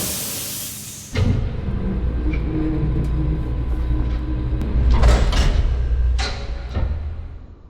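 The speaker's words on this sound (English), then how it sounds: "this will initiate the decompression. So the door behind us will shut, lock, the door in front of us will open once the air has been activated" In the Marauders game, airlock decompression doors slam shut with a heavy hiss, then a loud rumbling hum fills the chamber while metallic clanks and thuds ring out as the doors lock and open.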